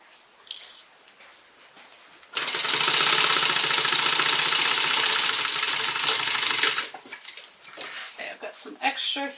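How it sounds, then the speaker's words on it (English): A sewing machine runs steadily for several seconds while back stitching a tote bag seam, a loud close mechanical whir that starts abruptly and stops, with brief handling noises around it. "Make sure you back stitch really well at the bottom because that's going to have a lot of pressure when we go to close this bag."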